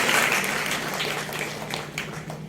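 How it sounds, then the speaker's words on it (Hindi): An audience at a literary society book launch ceremony claps in welcome for a guest, a dense wash of many hands applauding steadily from a moderate distance. "चाहता हूँ कि उनके स्वागत में आप लोग भी एक बार तालियां बजाएं"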